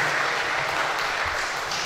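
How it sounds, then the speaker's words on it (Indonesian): Audience applause at a public dialogue event for village head candidates, a steady wash of clapping that fills the whole short stretch at moderate level. "Tepuk tangan untuk peserta nomor 1."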